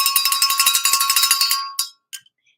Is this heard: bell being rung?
yes